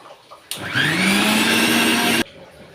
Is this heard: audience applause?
no